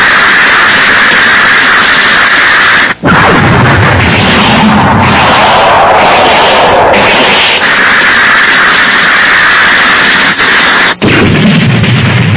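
Cartoon artillery fire in an animated battle scene, a continuous blast of heavy, noisy rumbling broken by sharp cracks near three and eleven seconds, very loud and alone without speech.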